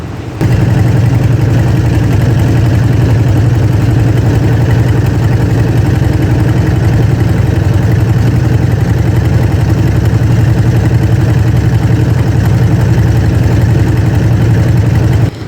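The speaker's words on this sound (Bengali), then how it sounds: "আমাদের ট্রলারটি নদীবক্ষ বেদ করে এগিয়ে চলেছে" A trawler boat's engine drones steadily and loudly while it moves along the Meghna river, a constant low throbbing that lasts throughout, with no voices.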